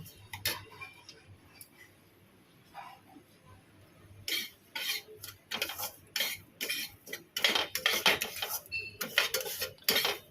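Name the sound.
semolina being fried and stirred in a pan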